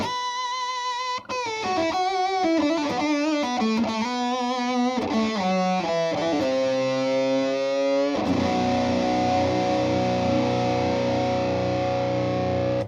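Heavily distorted electric guitar through a turbo distortion pedal on the bridge pickup, playing a quick riff of bent notes, then settling into a loud sustained chord that rings out to the end.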